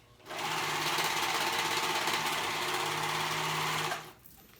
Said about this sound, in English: Let me do it in a serger because that's just what I like.